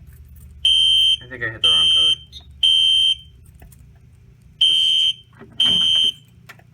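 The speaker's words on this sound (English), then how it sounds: "Let's go ahead and acknowledge the alarm." A fire alarm panel sounds during an alarm system test, five loud, close, piercing electronic tones about half a second each in an irregular rhythm, with someone talking between and under them.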